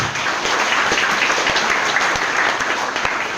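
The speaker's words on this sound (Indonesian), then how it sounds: "beri tepukan" A school assembly crowd claps steadily for a few seconds, dense and continuous applause filling the hall without speech.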